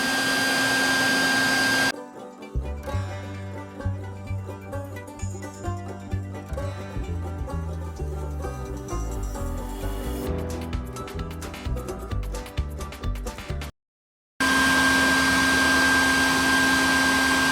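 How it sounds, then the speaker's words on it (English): A vacuum cleaner whines steadily nearby during an above-ground pool liner installation, drops out while other tonal sounds play, then roars back loudly after a brief silence. "I know the vacuum cleaner's still going"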